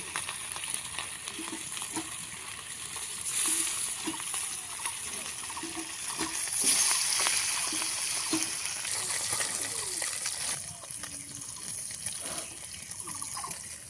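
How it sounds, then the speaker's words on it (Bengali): Fish frying in a pan in a village kitchen, with a steady broad sizzle and bubbling hiss that swells louder around the middle, plus occasional soft scrapes of a spatula. "এই যে এই মাছগুলো ভাজা হয়ে গেছে, তুলে নিচ্ছি এখন।"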